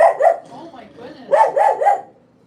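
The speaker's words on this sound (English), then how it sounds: "there's a doggy out there?" A dog barks outside, two quick barks followed by a softer whine and then a burst of three more barks, fairly close and clear.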